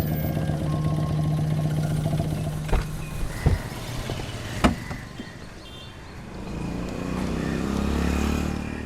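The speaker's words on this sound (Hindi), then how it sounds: "इंजन में कुछ प्रॉब्लम आ गई है सर।" A broken-down car engine with a fault runs roughly in a steady low drone, with a few sharp knocks and clanks breaking through midway, before the drone swells slightly toward the end; no talking.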